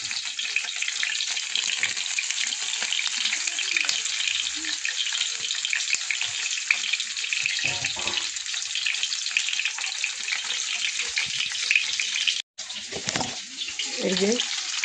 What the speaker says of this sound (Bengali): এই যে আমি এক এক করে সব স্টিকগুলো ভেজে নেব।